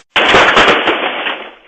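House gas explosion caught on a home surveillance camera: one sudden, loud blast after a moment of silence, followed by a sustained roaring, crackling rumble that slowly fades.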